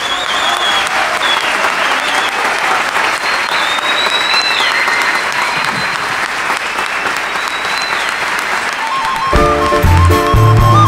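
Sustained, dense audience applause fills the hall in honor of a founder, loud and even throughout, with a few faint voices within it, before guitar music cuts in near the end.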